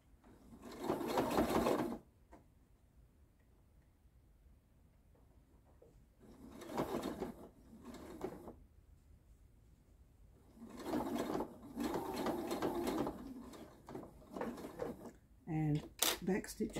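Sewing machine stitching the binding on an oven mitt, running in several bursts of a few seconds each with quiet pauses between, close and fairly loud, ending with short clicks and thread handling.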